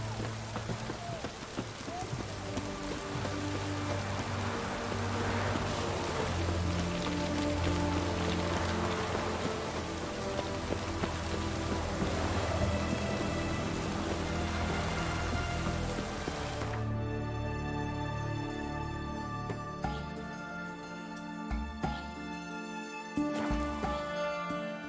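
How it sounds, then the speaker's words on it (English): Steady rain patters across the whole stretch in The Witcher 3: Wild Hunt under a layer of music and game sounds, the hiss fading toward the end as tonal notes take over. "Rain again."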